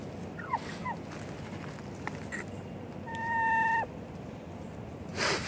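A chicken clucking softly, a few brief scattered calls and one longer squawk, faint and fairly close over a quiet background.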